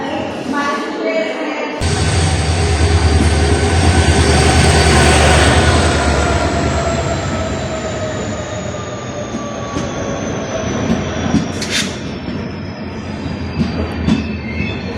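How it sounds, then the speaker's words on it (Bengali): The Kanchenjunga Express, an electric train, departs Sabroom in Tripura with loud continuous rumbling, rail clatter and squealing wheels that slowly fade, close by. "কাঞ্চনজঙ্ঘা এক্সপ্রেস সাবরুম থেকে ছাড়ছে আমাদের ত্রিপুরায়"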